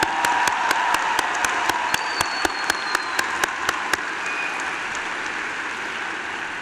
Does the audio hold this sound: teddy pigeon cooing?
no